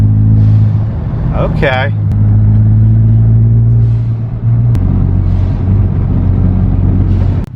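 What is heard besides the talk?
Ford F-150 EcoBoost blow-off valve while revving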